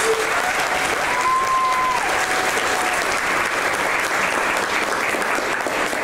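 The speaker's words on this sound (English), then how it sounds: "Round of applause" Festival audience applauding after a Q&A at a summer event, a dense, sustained wash of clapping at steady loudness throughout, with a faint tonal whistle or voice drifting briefly above it.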